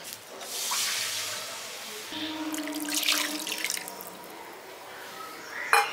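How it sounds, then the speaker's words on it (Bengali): Roughly two cups of water poured into a heated wok, a rushing splash that stops and restarts, ending with a brief metallic clink. "এবার কড়াইতে আমি দিয়ে দিচ্ছি 2 কাপ মতো জল।"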